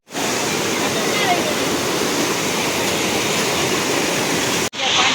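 Loud, steady rush of flowing water in Tiruchendur, close and constant, with one brief break near the end before it resumes.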